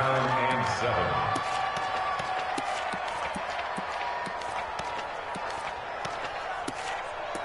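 A stadium crowd cheering at an American football video game, a steady broad roar with scattered sharp claps and shouts throughout, with a commentator talking over it.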